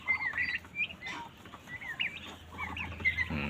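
A flock of two-month-old turkeys peeps and chirps softly nearby, overlapping high calls with faint rustling and clucking.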